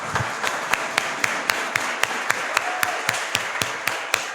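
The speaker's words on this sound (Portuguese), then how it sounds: "vamos aplaudir nossos irmãos" A church congregation applauds newly baptized members at a Sunday worship service, steady scattered clapping with a few sharper individual claps standing out.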